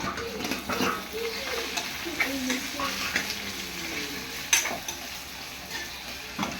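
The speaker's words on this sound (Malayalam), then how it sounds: "നമുക്ക് കുറച്ച് സവാള കട്ട് ചെയ്ത് കൊടുക്കാം." Chopped onions fry with ginger and garlic in a pan for a home-style chicken curry, a continuous close sizzle broken by repeated stirring scrapes and occasional spoon knocks throughout.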